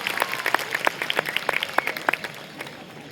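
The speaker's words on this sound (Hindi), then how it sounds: "अपने लिए तालियां बजाएं।" Sparse, fairly close claps from a small audience at a university spring festival, separate hand claps ringing out irregularly over a murmuring background.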